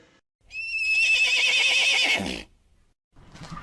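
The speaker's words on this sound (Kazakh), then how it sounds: "Жылқы." A cartoon horse gives one long, loud whinny with a shaky, wavering pitch, trailing off into a low snort, followed by a brief faint noise.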